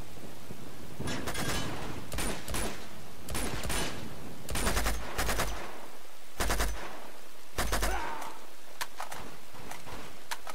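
Repeated sharp sniper shots from the Dragon Sniper in Uncharted: Among Thieves, several loud, spaced cracks with deep booms, amid other game gunfire, no talk.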